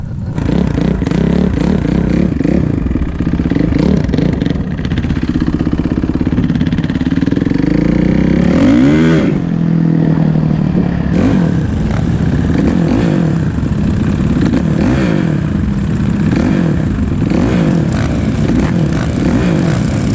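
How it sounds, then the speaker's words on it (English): A Suzuki 450 dirt bike screams down a drag strip, its loud engine revving up through the gears in rising sweeps with brief drops at each shift, steady and close throughout. "that bike wanted to stand up in every gear going down the drag strip"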